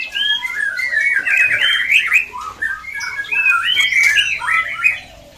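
White-rumped shamas in breeding cages chatter noisily while being fed, giving bright overlapping squawks and whistled chirps close by over a steady low background.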